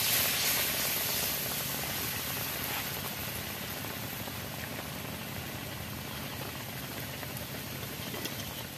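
Egg-battered pitha, Barishal style, frying in hot oil: a steady, dense sizzle that holds evenly and loud from start to finish with no pauses.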